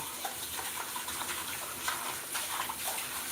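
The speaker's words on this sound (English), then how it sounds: "I have the water on low to give me some time." Water from a kitchen tap turned on low runs steadily while dishes and a cooking sheet are loaded, a continuous soft hiss with faint clinks, close and alone without talk.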